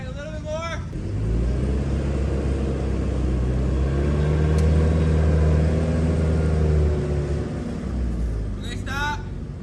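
A pickup truck drives slowly around a backyard, its engine giving a steady, loud low rumble that swells a little mid-way, with brief voices at the start and end.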